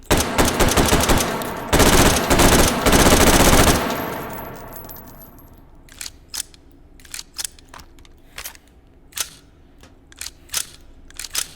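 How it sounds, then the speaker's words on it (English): AR-15 in the H3VR video game: a dense burst of rapid automatic gunfire for several seconds, then a quieter stretch of sharp, isolated metallic bolt clicks and clacks at irregular intervals. "a preview of making our AR-15 bolts and such sound a bit better"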